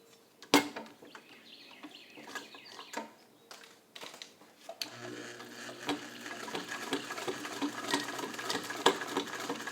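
An all-metal Singer 66 sewing machine stitches thick denim slowly: faint scattered clicks and knocks, then a steady low mechanical whir with fine ticking sets in about halfway through and keeps running.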